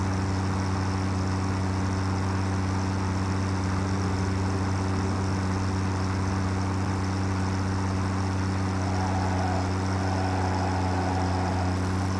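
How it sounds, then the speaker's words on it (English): Tractor engine in the video game Satisfactory idling steadily at close range, a loud low drone with constant harmonic hum and no talk over it. "I want to take the tractor over"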